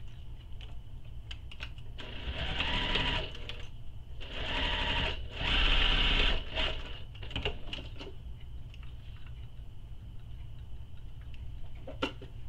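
A sewing machine stitches across the short edge of a handbag seam in three close bursts of rapid mechanical chatter, separated by short pauses, then falls to quiet with a few light clicks.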